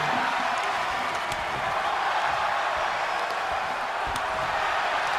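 Crowd at a Debutante Brawl 3 wrestling event roaring with a continuous, dense wash of cheering and shouting that stays loud throughout, with no clear pauses.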